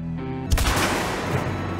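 A single loud gunshot in the video game A Way Out, an abrupt close blast followed by a brief rumbling tail.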